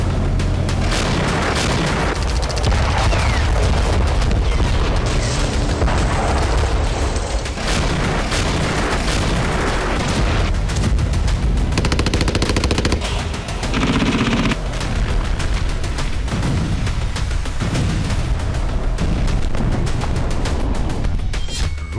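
Dense, loud war combat during missile and drone attacks in the Russia-Ukraine war: heavy booming explosions and bursts of rapid gunfire pile up continuously with no pauses.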